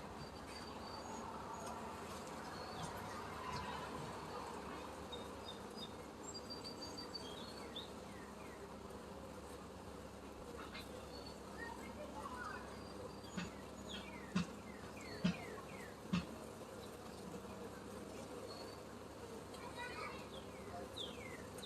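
Honey bees hum around an open hive during a weekly farm inspection, a steady, soft buzzing drone with a few brief louder taps and knocks midway, and a faint voice at times.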